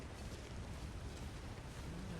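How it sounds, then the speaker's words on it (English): Waterfall in the video game The Long Dark, a steady, dense broadband rush of falling water with a constant low roar and no breaks, fairly soft and continuous throughout. "Look at the pretty waterfall."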